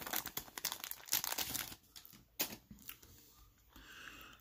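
A Yankees baseball card pack torn and crinkled open by hand, rapid close wrapper crackles and tearing for a couple of seconds, then quieter handling of cards.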